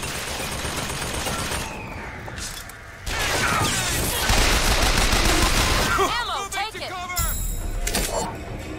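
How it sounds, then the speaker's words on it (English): A chain gun fires in the video game Bioshock Infinite: loud, dense, close automatic bursts with mechanical clatter, running for several seconds amid game noise, with a voice talking over parts of it. "Where's the chain gun thingy?"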